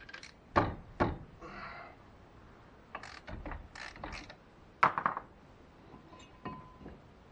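A socket wrench works on the 18mm bolts of a brake caliper bracket on a PT Cruiser Turbo, giving sharp metallic clicks and ratcheting bursts spaced irregularly, close and quiet, with faint clanks between.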